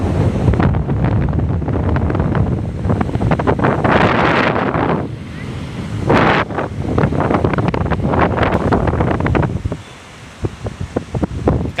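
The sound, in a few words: strong wind and waves at the sea on a rainy day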